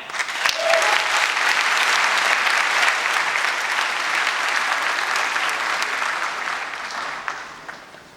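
Sustained applause from a school audience welcoming the class valedictorian at Richmond Secondary's 2023 graduation, a dense wash of clapping that starts at once, holds steady, and fades out toward the end.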